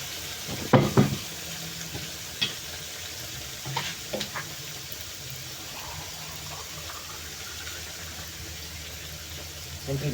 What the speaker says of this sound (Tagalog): Sasahog natin sardinas na may talong.